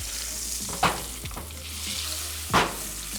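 A burger sizzles and fries on a grill with a constant close hiss, broken by two sharp scraping clatters of a spatula working the patty loose; no speech.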